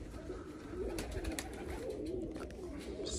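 Pigeons coo softly while flying overhead, with quiet repeated calls and a few faint wing flutters against a low outdoor background.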